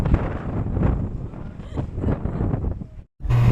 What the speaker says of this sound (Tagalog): Kaya sobrang lamig, sobrang hangin,